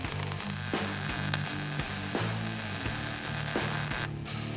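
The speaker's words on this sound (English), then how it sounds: "Okay, now we weld." Welding on a cut-down axle truss for a project car, with a close, steady buzzing crackle broken into short repeated bursts and faint clicks, and no voices.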